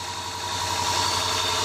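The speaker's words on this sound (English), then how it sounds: "With the engine running" A Land Rover engine idles steadily right after an oil change, a close, continuous mechanical hum with a faint vibration that stays even throughout and has no voices over it.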